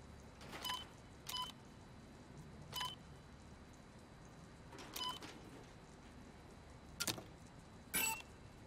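Keypad beeps from the Resident Evil 4 Remake video game, six short, sharp electronic tones spaced irregularly over a quiet background, with no talk.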